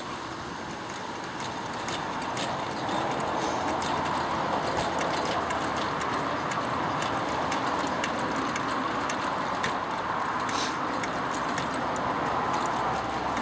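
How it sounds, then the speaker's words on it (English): Repeated hand-pumping of the fuel tank on a Coleman 533 dual fuel stove, a steady, close, scratchy rhythmic pumping with faint metallic clicks that continues for about thirteen seconds. "we put our thumb over that, right, and leave it over it, and we give it 25 pumps"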